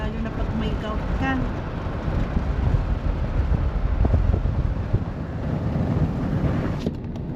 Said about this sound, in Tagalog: maingay ang hangin